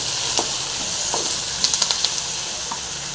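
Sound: radish leaves frying in a pan

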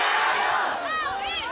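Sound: crowds cheering Olympic torch relay in Fuzhou

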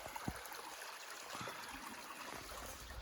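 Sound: small river stream flowing near a lake

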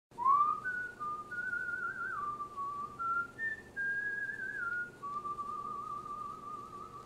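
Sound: whistling a song

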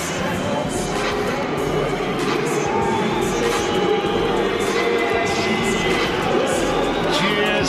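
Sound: crowd cheering at a boxing match

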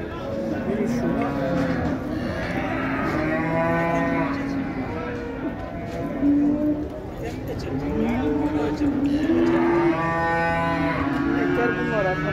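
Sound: cows mooing at a livestock market

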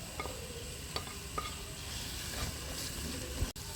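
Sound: onions added to pan, sizzling and stirred for macaroni

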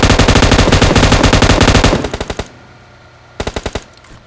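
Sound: gunfire in the video game PUBG Mobile

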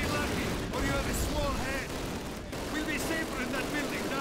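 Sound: machine gun fire in Call of Duty video game

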